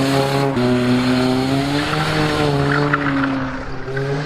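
A struggling car engine revs hard and steadily, its pitch rising and falling slightly, while the tyres squeal and skid. The sound is loud and close, with no talking.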